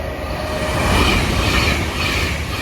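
An Avanti West Coast Class 390 train running from Manchester Piccadilly to London Euston passes at Watford Junction, a loud continuous rush of wheels on rail with a faint squeal, heard alone.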